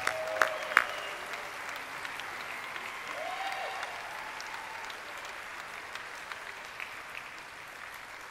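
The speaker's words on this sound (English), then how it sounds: "So everyone give them a round of applause." Round of applause from a gala audience honoring a board and staff team, steady crowd clapping of moderate loudness with a few sharp nearby claps and whoops near the start, then fading slightly.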